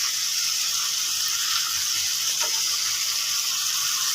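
Spice paste sizzles steadily in a pan with salt added while cooking a Bengali cabbage dish with fish head, a continuous close frying hiss with no talk.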